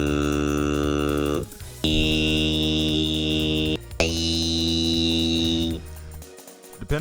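Pitched voice samples arranged into a Friday Night Funkin' chromatic scale play as sustained buzzy tones, three held notes stepping in pitch, separated by brief breaks.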